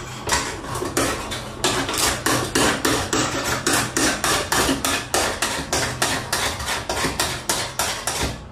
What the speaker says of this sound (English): We need to sharpen our knife.